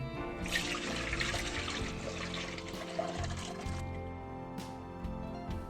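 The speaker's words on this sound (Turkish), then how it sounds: "Süzgeç yardımıyla tortulardan ayıralım." Lemonade pours through a strainer in a steady, fairly loud liquid splash and trickle that runs for several seconds, with a few small clinks toward the end.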